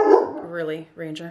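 A pet dog named Ranger gives a short, sharp bark followed by softer whiny yips, close by indoors, while a person speaks over it.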